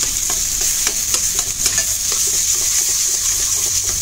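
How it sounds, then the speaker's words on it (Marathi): Thick masala paste sizzles steadily in hot oil over medium-high heat while a spoon stirs and scrapes the pan in a quick, irregular rhythm. "त्याचं सुकं आपल्याला तेल सुटेपर्यंत तेलात परतायचं."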